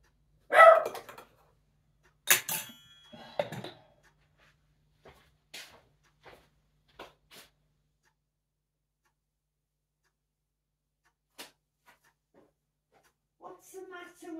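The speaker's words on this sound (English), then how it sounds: "He's walking all around the place and barking." Indoors, a dog lets out a few sharp barks early on, then scattered quieter clicks and taps follow through long near-silent stretches, with faint sounds near the end.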